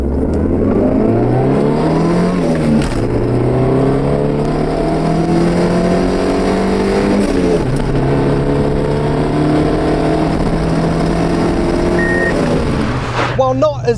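A 1980s Honda City Turbo II hatchback accelerates hard, its small turbocharged engine rising in pitch through several gears with short dips at each shift, loud and close, with someone speaking over it.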